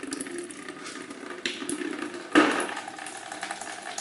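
Old coolant draining from a Ford Focus radiator gives a soft, continuous trickle of liquid, with a few faint knocks and a brief louder gush partway through, quiet and close with no talk.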